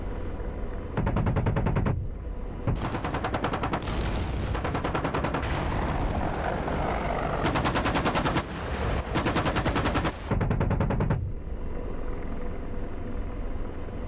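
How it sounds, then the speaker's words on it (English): Sustained bursts of automatic gunfire from a convoy ambush in the combat flight simulator DCS World, with an Apache helicopter engaging; rapid loud volleys repeat over a steady rotor and engine drone, without talk. "Yep, they're shooting at the helicopter. We're gonna start engaging."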